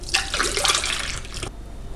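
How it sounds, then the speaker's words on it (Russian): Mulled wine pours into a glass in a steady, close liquid splash lasting about a second and a half, then stops abruptly into quiet. "Наливаем полный стаканчик."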